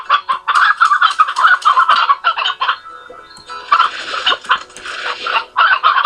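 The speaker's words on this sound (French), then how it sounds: "Je vais aller leur chercher des poules." Chickens in the video game Slime Rancher cluck and squawk in loud, busy bursts close up, with short gaps between overlapping calls.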